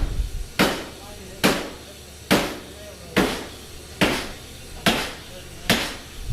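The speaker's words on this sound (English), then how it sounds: "you can feel this hammer out in the driveway every time it hits" A large air-powered forging hammer, a converted steam hammer about 12 feet tall on a deep foundation, strikes seven times in a steady rhythm, each blow a loud heavy thud with a short ringing decay.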